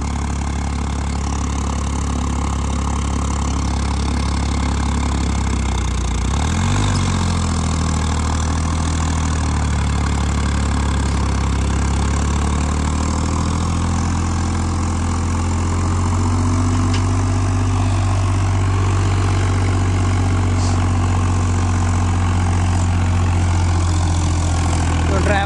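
A Powertrac Euro 55 tractor engine runs steadily, a loud, close, continuous diesel rumble with a firm low drone that holds throughout, a brief dip in the middle, and the pitch settling slightly lower toward the end.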